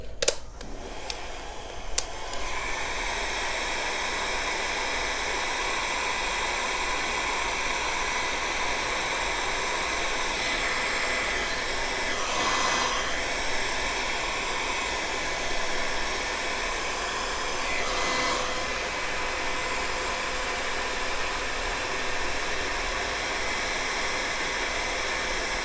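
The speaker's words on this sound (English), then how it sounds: "we're gonna take our heat gun" Heat gun blows hot air onto motorcycle reflector adhesive on a Harley-Davidson Sportster, a steady close whooshing roar of fan and air, continuous and unchanging with a few clicks at the start and no talk.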